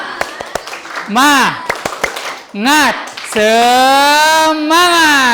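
A group performs the rhythmic 'tepuk semangat' clap chant: a run of sharp, patterned claps, then voices shouting the chant together in unison, with clapping repeated between the calls.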